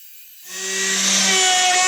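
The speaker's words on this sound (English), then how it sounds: "Then I took it to the bandsaw and cut it out." A bandsaw spins up from silence and bites into wood as a crossbow part is cut out, building to a loud, steady high whine with a sustained tonal hum.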